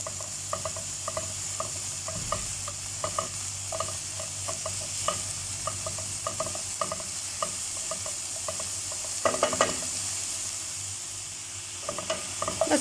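Garlic sizzles in a pan for a creamy chicken dish, a close, continuous frying hiss broken by repeated scraping stir strokes and a louder clattering burst partway through.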